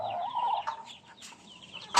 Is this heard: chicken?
yes